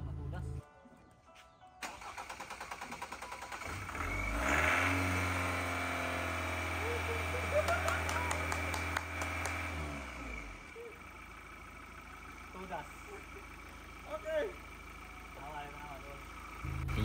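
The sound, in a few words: old car engine starting and running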